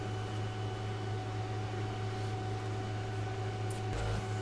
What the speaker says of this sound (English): I want to apologize in advance for the noise from the spray booth